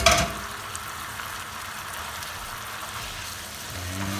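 Pasta simmering in a garlic and cilantro sauce in a pan, a steady soft bubbling sizzle that runs throughout, close up and even in level.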